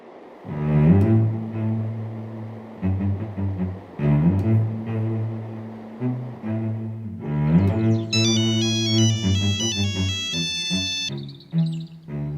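A melodic phone ringtone plays loudly and continuously, its tune repeating, with brighter, higher chiming notes joining toward the end.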